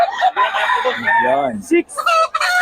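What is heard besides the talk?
chickens and rooster crowing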